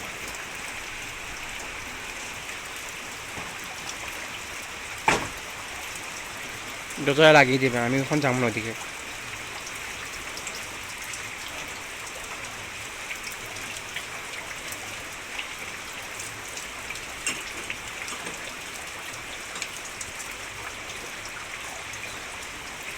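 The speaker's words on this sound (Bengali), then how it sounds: "প্রচুর বৃষ্টি পড়ছে, প্রচুর।" Heavy rain falls in an even, continuous hiss that lasts the whole time, and a person speaks briefly over it.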